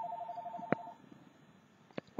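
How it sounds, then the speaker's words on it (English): A telephone rings indoors in a short, regular electronic pulsing pattern, then stops and is followed by a couple of brief knocks or clicks. No one speaks. "Phone rang."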